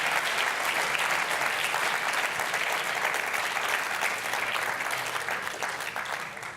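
A conference audience applauds at the close of a Symfony community keynote at SymfonyLive London 2018. The clapping is dense and continuous throughout and tapers slightly toward the end.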